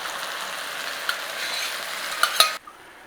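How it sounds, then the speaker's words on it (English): Beef broth goes into a pan of browned mushrooms, making a loud, steady hissing sizzle with a couple of utensil clinks before it cuts off abruptly near the end. "we are going in with our beef broth"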